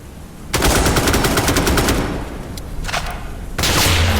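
Machine gun fire in the war game Incoming Storm, loud sustained rapid bursts that run for over a second, pause briefly, then resume, with no talking.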